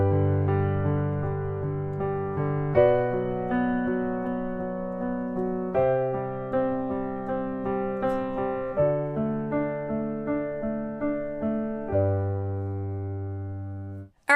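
A piano plays a left-hand arpeggio pattern built on a root-fifth-root shape, with evenly spaced low notes rolling up under sustained chords in a steady, flowing rhythm for several bars before ending cleanly.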